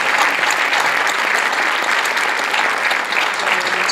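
A concert audience applauding continuously as performers are welcomed, steady clapping from many hands that fills the whole stretch without pause.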